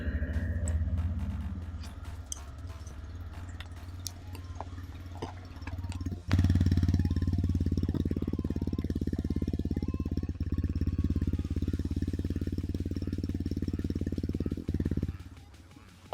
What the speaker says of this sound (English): let me make you hear the engine exhaust note